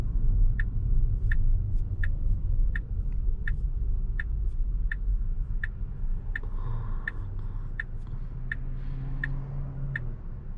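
A Tesla with 21-inch wheels cruising along a state highway, steady low road and tyre rumble inside the cabin with a regular ticking, like a turn signal, repeating throughout.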